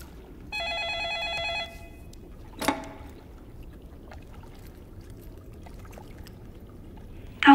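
A telephone rings in one sustained electronic burst of about a second, followed by a single knock and quiet room noise, with no talking.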